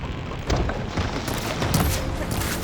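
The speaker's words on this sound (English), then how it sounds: "Firing now!" Gunfire erupts in the action game Horizon Forbidden West as rapid, loud bursts of shots and impacts pile up over constant battle noise.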